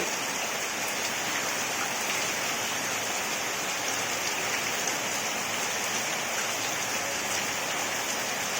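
Heavy rain pours down in a dense, unbroken hiss of drops on surfaces, loud and steady throughout with no pauses or voices.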